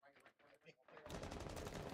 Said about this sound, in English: looks like some gunfire is actually going to go on right now